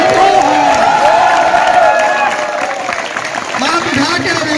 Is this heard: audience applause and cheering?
yes